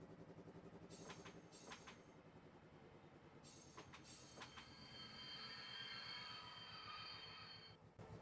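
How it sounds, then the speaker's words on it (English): A train rolls along rails in the video game Infinite Rails, a steady rumbling with rhythmic clacking over track joints and repeated high wheel squeals, ending in a sustained squeal. "Go back into our train, give it some throttle."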